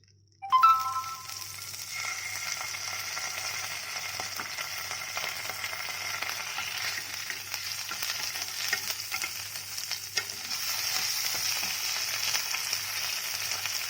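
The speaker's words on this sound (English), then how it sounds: "I've taken a pan and added 1 tablespoon of butter. First I'm going to add ginger garlic paste." Ginger garlic paste hits hot butter in a pan with a sudden loud sizzle, then settles into a steady close frying hiss with faint stirring scrapes.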